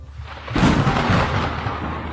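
Thunder rolls in over steady heavy rain, swelling into a broad, loud rumble that fades slowly into a constant wash of downpour.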